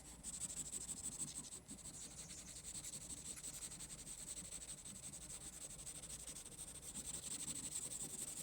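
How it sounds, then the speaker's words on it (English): A pencil shades steadily across paper during a sketching lesson, a faint continuous dry scratching and rubbing texture with a soft, even rhythm, close and quiet. "I can shade that in."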